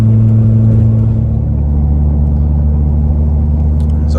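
An Acura TSX CU2 with a full exhaust system drones loudly and steadily under acceleration, a deep sustained engine hum with a faint shift in pitch early on, close to the cabin and alone.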